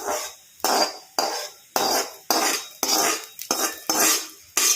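A metal ladle scrapes and clanks against a pot as a spluttered tempering is mixed into drumstick leaf sambar. About eight sharp, loud knocks come in an uneven rhythm, each followed by a short scraping tail, with no voices.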